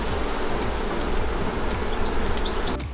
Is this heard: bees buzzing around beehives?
yes